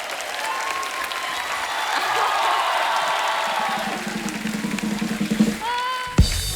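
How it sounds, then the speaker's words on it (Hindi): A studio audience at a comedy talk show claps loudly for a circus-themed star cast, a dense sustained wave of applause that swells and then tapers, ending in a sharp final burst. "एक बार जोरदार तालियां हो जाए हमारी सर्कस की स्टार कास्ट के लिए।"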